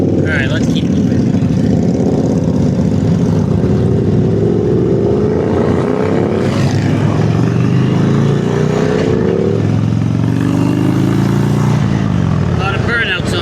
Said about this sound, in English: A lot of burnouts on this road.